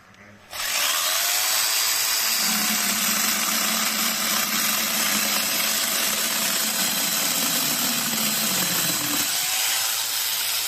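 A chainsaw attachment on an angle grinder starts abruptly and runs at a steady, loud, high-pitched whine as it bites through wood, with the motor note dipping briefly near the end.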